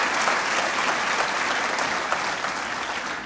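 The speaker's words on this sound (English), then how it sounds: "I'd like to give him a round of applause." Sustained applause from an audience at a hall of fame event honoring Bill Sainter, a dense, steady wash of many hands clapping at close range with no talk over it, tapering slightly at the end.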